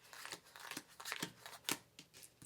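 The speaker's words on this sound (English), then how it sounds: "So shuffle, shuffle, amazing shuffling, and then you deal out 6 cards." A deck of cards for the game Tacocat Spelled Backwards is shuffled by hand, a series of soft, quick riffling and slapping bursts, close but quiet.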